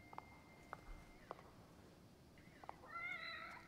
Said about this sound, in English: Oh, you're a cute little kitty cat.